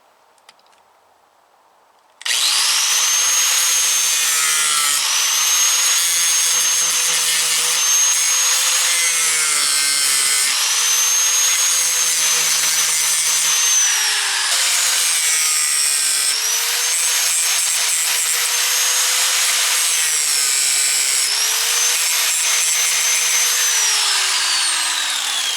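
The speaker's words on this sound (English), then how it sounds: "I want to cut the ends of these screws off." A power tool fitted with a cutting blade grinds off the protruding ends of screws on a DIY chicken pen door, starting abruptly after a quiet moment and then whining loudly and continuously with repeated pitch dips as each cut bites in.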